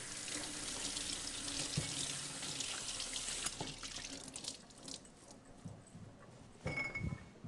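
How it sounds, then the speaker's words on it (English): Tap water runs steadily into a sink as squash get rinsed under it, a close, even hiss and splash with a few knocks and clunks near the end. "Let me give them a little rinse here."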